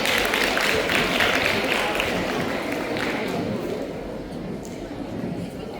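Audience applause welcoming a woman poet from Ayodhya at a Hindi kavi sammelan: dense, steady clapping that stays strong and then eases slightly toward the end.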